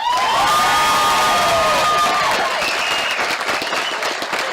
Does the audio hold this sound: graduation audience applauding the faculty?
yes